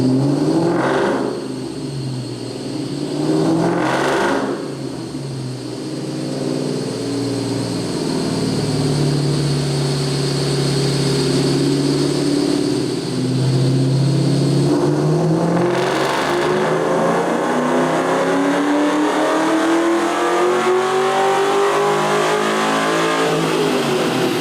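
1998 Ford Mustang Cobra engine with 75,000 miles running on a chassis dyno, loud and close: idle, two quick revs, then a long sustained pull climbing steadily in pitch toward the end.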